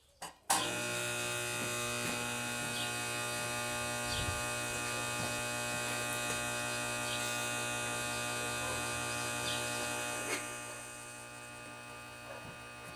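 Electric welding machine switched on with an electrode loaded, giving a loud steady electrical hum and buzz that starts abruptly and runs alone, briefly shifting near the end.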